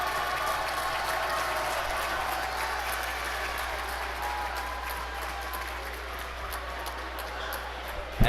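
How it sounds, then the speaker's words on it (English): Basketball team and spectators clapping after a varsity win in a gym, steady rapid applause from many hands at moderate distance, continuous for several seconds over a low hum, ending with a sharp thump. "Gales are clapping it up now"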